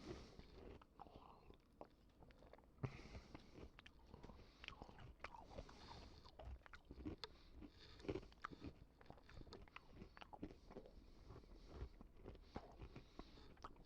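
Close, crunchy chewing with irregular bites and crackles, steady and fairly quiet, no talking.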